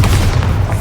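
Bombarda spell blast in Hogwarts Legacy, a brief deep booming burst with heavy low rumble filling the short moment, loud and close.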